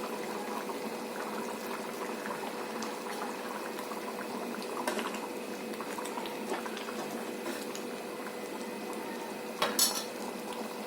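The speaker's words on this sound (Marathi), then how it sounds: "आता आपली भाजी उकळलेली आहे" A pot of black chickpea curry bubbles steadily at a quiet, even simmer, with an occasional light clink of utensils.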